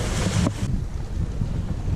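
A sailing yacht's engine runs at sea, a steady low rumble mixed with wind buffeting and water noise, with a brief burst of hiss partway through.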